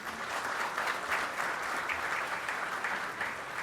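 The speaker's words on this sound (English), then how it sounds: "let's have a huge round of applause once again for Mr. Bajaj." Steady applause from a large audience at a Bajaj Dominar 400 motorcycle launch event, a continuous wash of many hands clapping at moderate volume, with no talking over it.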